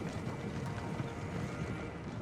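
Horses' hooves clop steadily in the Total War: Shogun 2 video game, a dense continuous trampling with a whinny-like edge, moderately loud and without speech.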